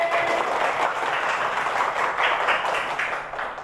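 Schoolchildren applauding in a classroom at the end of a lesson, an even patter of many small hands that carries on steadily and fades slightly at the close.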